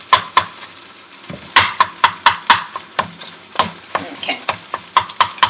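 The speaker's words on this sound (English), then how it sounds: "So I'm just going to chop them a little bit, break it apart" Scrambled eggs for shrimp fried rice are chopped and broken apart in a frying pan, sharp metallic taps and scrapes of a spatula landing in quick bursts over a soft sizzle, with a brief word spoken.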